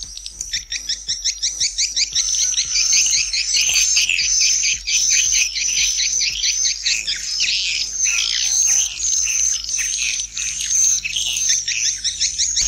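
Dense, rapid chirping and twittering swiftlet calls fill the air continuously, loud and close, in stereo, with a low clicking pulse underneath.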